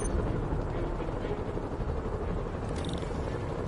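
Helicopters in the Spider-Man Remastered video game give a dense, steady rotor rumble and whir that fills the scene without a break, with a brief higher whine near the end.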